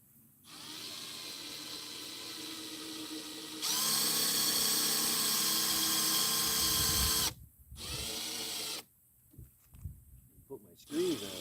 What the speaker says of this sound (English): So now I'm gonna drill a couple pilot holes.